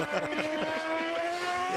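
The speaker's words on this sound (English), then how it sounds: "this run that Tony Stewart's making in this Formula One car" Lewis Hamilton's Formula One car driven on track, its high engine note rising steadily in pitch as it accelerates, loud and close for under two seconds, with faint crowd or commentary noise beneath.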